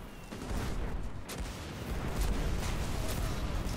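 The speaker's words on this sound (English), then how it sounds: "It's just exploding people with cannons." Cannons boom and blasts explode continuously in a shooter video game, a dense rumbling barrage of shots and impacts with sharp cracks layered over heavy low thuds, no speech.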